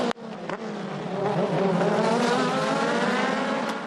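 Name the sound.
race cars at Symmons Plains hairpin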